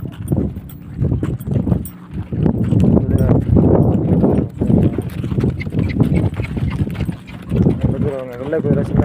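Horse hooves clip-clopping in a park in Taif, Saudi Arabia, steady hoof beats mixed into a busy outdoor scene with continuous voices talking over them.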